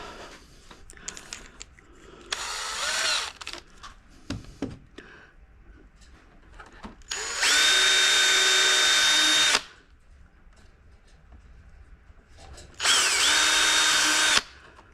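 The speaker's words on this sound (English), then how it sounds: "So I'll just do the pilot holes." A power drill whines in three bursts, one short and two longer and steady, drilling pilot holes in the plastic of a Traxxas Spartan RC boat, with quiet handling clatter between them.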